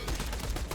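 Tediore SMG firing in the video game Borderlands The Pre-Sequel, a quick burst of rapid automatic shots that blur into a dense, fairly quiet rattle.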